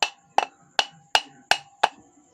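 Six sharp metallic hammer blows strike a ceiling fan's shaft to knock out its coil, evenly spaced and close, each with a bright ringing tail, no voices.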